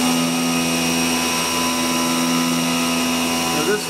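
A machine tool runs a peck drill cycle, drilling an insulating bushing hole in a part for an aerodynamic bearing, with a loud steady whine and hum holding throughout and a brief shift near the end.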